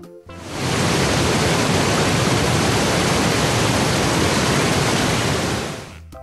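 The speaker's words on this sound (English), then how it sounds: "Waterfall." Steady, dense rush of falling water from a waterfall, loud and continuous for about six seconds with no other sounds, fading in and out at the edges.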